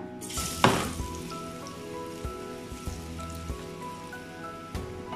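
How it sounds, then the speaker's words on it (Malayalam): Small banana pieces sizzling in hot ghee, a steady crackling fry with scattered pops and a brief louder clatter near the start, heard alone without talk. "നെയ്യിലേക്ക് ഇട്ട് കൊടുക്കാം."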